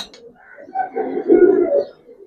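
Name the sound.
Giribaz pigeons cooing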